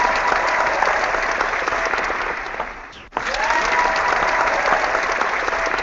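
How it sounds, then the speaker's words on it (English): Steady audience applause in an event hall, a dense continuous clapping that briefly dips near the middle before resuming at full strength. "Let's give Amy a big round of applause, everybody"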